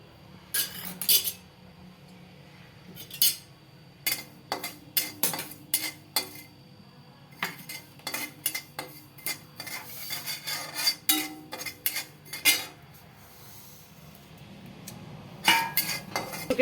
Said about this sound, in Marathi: आता खसखस भाजून घेते।